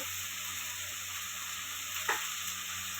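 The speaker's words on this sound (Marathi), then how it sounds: "लाल मिरची पावडर टाकते" Red chili powder dropped into hot oil for a potato curry, giving a continuous close sizzle with one short louder crackle near the end, no talking.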